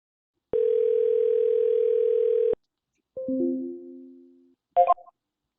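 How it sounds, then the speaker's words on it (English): A telephone dial tone holds steady for about two seconds, then a falling two-step electronic tone and a short burst of dialing beeps as a help-desk call goes out. "Let's go ahead and call them back with the click of a button."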